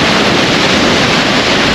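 Strong wind roars steadily across the rough, choppy water of the Lagoa dos Patos at Arambaré on an overcast day, a loud, unbroken rush buffeting the microphone.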